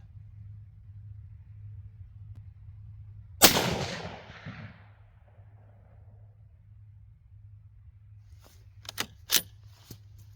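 A single loud AAC .308 Winchester rifle shot cracks and booms with a rolling echo at an outdoor range over a low steady hum, followed later by a few faint metallic clicks.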